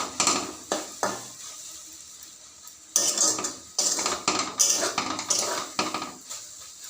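A metal spatula scrapes and clatters against a pan in irregular bursts while jute leaves are tossed and fried, with faint sizzling between the strokes.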